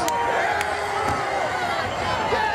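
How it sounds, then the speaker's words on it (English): A wrestling crowd in downtown Orlando roars steadily for the Emerald Emperor during a vintage title main event, a dense, continuous cheer with a couple of sharp slaps or thuds standing out near the start. "This crowd in downtown Orlando rallying behind the Emerald Emperor"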